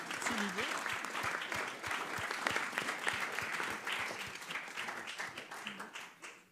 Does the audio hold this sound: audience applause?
yes